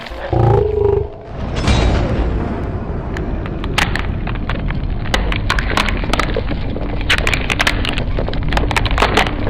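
An axe chopping wood, recorded alongside high-speed camera shots, with a loud heavy impact near the start followed by continuous rough crackling and sharp splintering clicks, close and loud.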